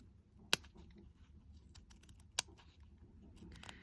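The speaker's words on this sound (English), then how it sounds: "take a pair of small, very sharp scissors and come in and cut on the line" Small, very sharp scissors snip along a marked line on a mini rainbow fabric banner, giving two distinct crisp clicks and a few faint cutting sounds in a quiet room.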